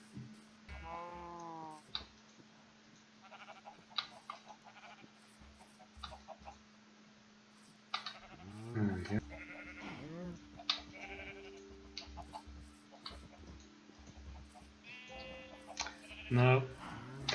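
Video game farm animals: sheep bleat faintly alongside clucking chickens and other livestock calls, scattered short cries over a quiet background, with someone talking now and then.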